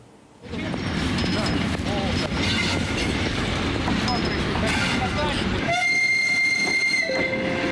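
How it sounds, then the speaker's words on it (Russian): Electric commuter train pulling into a station in Avdiivka in Donbas, a loud sustained rumble and rail clatter that starts suddenly and carries on throughout, with a brief whistle-like tone near the end and talk over it. "На четвертый путь прибывает электричка из Чаплина."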